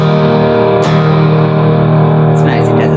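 Electric guitar sent through a Grand Majors reverb pedal, a sustained, ringing chord with a slight bite and a soft new strum near the end, played loud and close, with a voice briefly heard.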